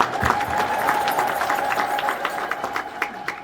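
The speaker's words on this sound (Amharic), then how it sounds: "ግን ጭብጨባው ያንሳል።" A church congregation claps for its administrator during a ceremony moving the tabot while the church building is renovated, steady scattered applause from a crowd throughout, with some voices mixed in.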